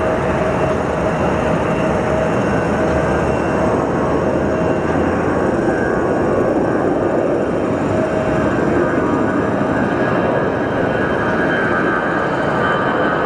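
Hawaiian Airlines airliner at Phoenix Sky Harbor airport, a loud, steady broadband engine roar with a faint whine, continuous throughout with no talk.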